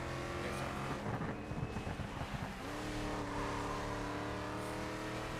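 A steady synthetic engine hum drones continuously with a brief rumbling surge partway through, an electric car's motor cruising in the racing game Grid Legends.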